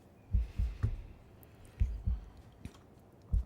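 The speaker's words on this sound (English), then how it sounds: "Oh, do you hear the heartbeat?" Heartbeat in the video game Wuthering Waves: soft, low, muffled thumps in loose lub-dub pairs, repeating at a slow, uneven pace and fairly faint against a quiet background.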